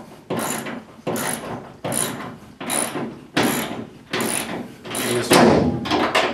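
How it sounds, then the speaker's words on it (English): A hand ratchet tightens a plus nut while installing a SmartBoxx, giving seven loud, evenly spaced bursts of clicking, each stroke a dense rattle of pawl clicks close to the microphone. "Sometimes it's not a bad idea to have a ratchet if you're more comfortable with that."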